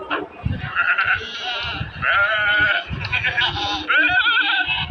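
Goats bleat repeatedly at a livestock market during Bakra Eid, loud and close, with several overlapping cries running through the whole stretch.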